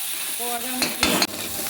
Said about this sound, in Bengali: এবার একটু জল দিয়ে নিলাম ভালো করে নেড়ে চেড়ে